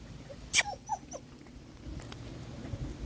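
A dog gives a few short, high whimpers and yips early on, then faint shuffling and quiet room noise.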